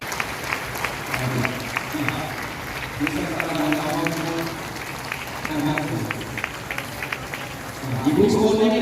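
Steady crowd clapping at an event with a chief guest, sustained through the clip while a voice speaks over it intermittently.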